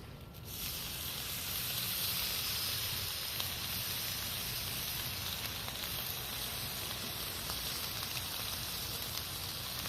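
Cheap bacon sizzles steadily on a new Blackstone 36-inch griddle being seasoned. The hiss is soft, even and continuous, with faint crackles and no talking.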